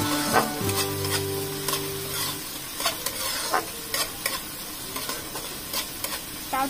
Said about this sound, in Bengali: এর মধ্যে আমি রসুনটা দিয়ে দেবো, রসুন কুচিটা একটু নেড়ে নেব